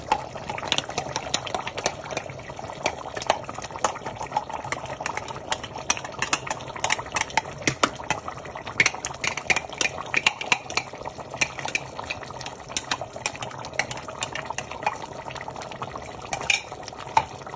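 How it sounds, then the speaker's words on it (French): Chopped spaghetti, carrots and green onion are tipped into a pot for Burkina Faso soumbala chicken spaghetti, followed by continuous close stirring with utensil clinks and scrapes over a faint bubbling, with no talking. "je vais ajouter mes pâtes que j'ai déjà découpées, mes carottes et mon oignon vert"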